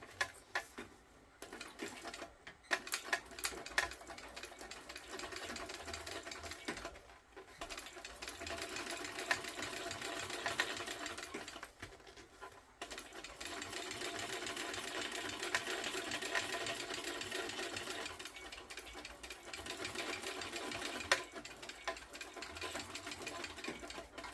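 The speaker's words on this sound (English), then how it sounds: "I'm going to top stitch from one end to the next with my lining out of the way" A sewing machine top-stitches along a zipper lining, a fast even whirring chatter running in long bursts with brief pauses between runs, close and steady, no talk.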